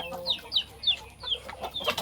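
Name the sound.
chickens clucking in their room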